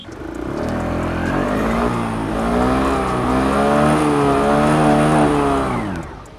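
The Aprilia SXR 160 scooter's single-cylinder engine and fiber-cased barrel exhaust rev up steadily from idle, the pitch rising and falling in smooth sweeps, loud and close, before cutting off at the end.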